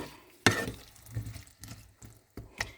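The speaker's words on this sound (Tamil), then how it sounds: "இப்பொழுது இதை எண்ணெயில் இப்படியே வதங்க விட்டு மூடிவிட வேண்டும்" Potatoes sautéing in oil in a pan for potato curry, with soft frying and several stirring scrapes and knocks of a utensil, close and fairly quiet.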